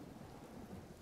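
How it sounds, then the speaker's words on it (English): Thunderstorm with rain in the video game Empyrion: Galactic Survival: a brief, steady wash of rain hiss over a low rumble, with no distinct thunder crack. "I don't want to see the storm."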